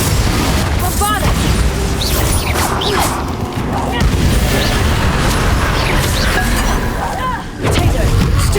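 Bombarda blast spells going off in combat in Hogwarts Legacy, heavy booming explosions layered with other spell effects and game music, loud and dense throughout, with brief shouted voices between impacts.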